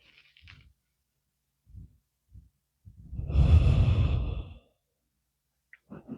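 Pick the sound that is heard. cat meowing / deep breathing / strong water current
deep breathing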